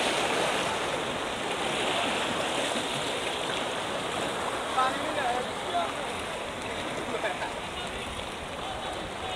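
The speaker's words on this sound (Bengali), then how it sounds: "এরা বুঝতে পারতো না পানি কি শব্দ" Roaring floodwater rushing over a bridge during flooding in Gowainghat: a continuous broad, churning rush that stays close and steady throughout.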